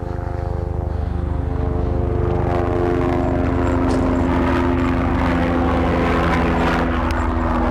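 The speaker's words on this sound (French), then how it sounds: "Et il y a l'escadron d'hélico." Military helicopter squadron flying over a forest, a loud, steady rotor drone with strong low harmonic tones that holds throughout.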